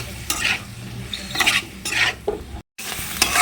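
Banana stem and potato sizzle in a hot pan as a spatula stirs and scrapes at a steady rhythm, with a brief pause in the sound.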